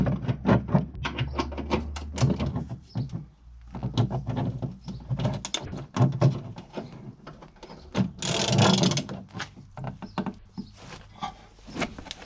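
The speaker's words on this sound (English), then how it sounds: "First we will undo the bolt with two 18mm ratchets." Two 18mm ratchets work loose a tight control arm bolt on a BMW, giving a steady run of rapid clicking and ratcheting strokes with occasional clunks and a brief scraping rush, close and fairly loud.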